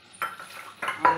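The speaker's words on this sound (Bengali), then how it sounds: "এবার মাছগুলো ফেলে দেবো" Fish pieces dropped one by one into a cooking pan of mustard-potato curry, three distinct soft plops and clatters against the metal, close and quiet, with a light sizzle between them.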